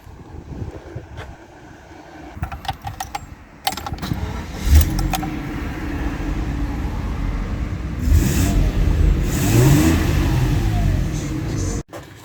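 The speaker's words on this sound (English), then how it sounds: "I'm going to back this thing in the garage" A 1977 Jaguar XJC with a 6-litre V12 runs steadily as it backs slowly into a garage, a low continuous engine drone with a few short bursts of throttle and some clunks and knocks, heard up close with no talking.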